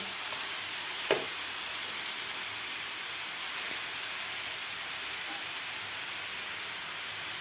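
Potatoes and mixed vegetables being stirred and fried in a pan over a high flame, giving a steady, close sizzling hiss throughout with one brief scrape near the start.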